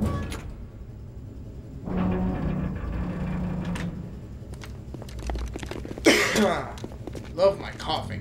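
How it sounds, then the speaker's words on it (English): Coughing during a Metal Gear Solid 2: Substance cutscene on PS2, a few rough coughs and throat sounds amid rustling and crunchy game noises, close and moderately loud. "Love my coughing."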